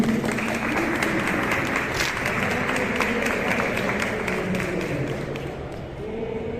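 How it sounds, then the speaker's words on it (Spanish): An audience applauds to welcome an author at a book presentation and discussion at a book fair, giving sustained, dense clapping from a crowded room. Faint voices murmur underneath. "Un fuerte aplauso para él, bienvenido."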